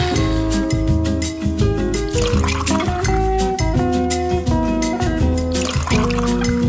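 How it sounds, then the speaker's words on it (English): Candy bar milkshake poured into a glass, a loud continuous liquid fill and gurgle with rising pitch as the glass fills, backed by steady music. "For a lucky sweet tooth, we have a candy bar milkshake. Let's mix that up and pour it into the right glass."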